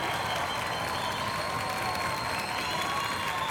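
A live concert audience applauds steadily and continuously, dense clapping filling the whole stretch without pause.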